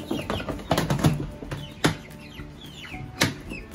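Chicks in an outdoor coop peep and cluck in short, scattered bursts, with quick scuffles and sharp knocks in between, close and moderately loud, with no voices.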